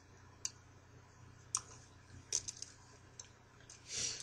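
Computer mouse button clicks while highlighting a word in a word processor, several sharp, quiet clicks spaced across a faint background hum, with no talking.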